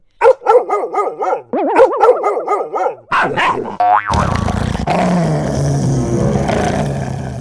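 A cartoon character imitates a dog with a rapid run of loud, bouncy barks. The barks are followed by a rising boing effect and then a noisy roar.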